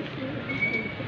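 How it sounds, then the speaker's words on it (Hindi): Colourful chapat pigeons coo together in a low, soft, continuous murmur over a steady background hiss, close by. "ये बहुत ही प्यारे कबूतर है, ये चापट के कबूतर हैं।"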